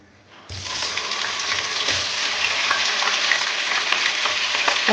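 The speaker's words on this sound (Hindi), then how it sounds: "और अब चिकन को फ्राई कर लें इसके अंदर।" Chicken pieces fry in hot masala for a wedding-style degi chicken korma, a loud steady sizzle bursting in after a quiet start and holding close and dense throughout, with occasional soft stirring knocks underneath.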